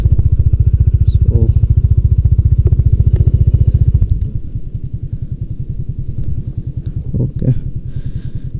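A Bajaj Dominar 400 and an NS200 motorcycle idle nearby with a loud, rapid thumping engine pulse that drops to a softer, slower rumble midway, with a few clattering mechanical knocks.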